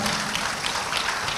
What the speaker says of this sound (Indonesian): boleh tepuk tangan dulu untuk 3 panelis kita